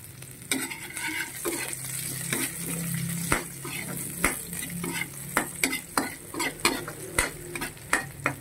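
Onion chives stir-fried in a pan with garlic while making crab soup: a steady sizzle with repeated sharp scraping and stirring clatters of a utensil against the pan, close and fairly loud.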